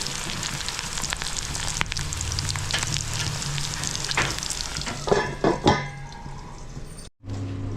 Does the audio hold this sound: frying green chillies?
yes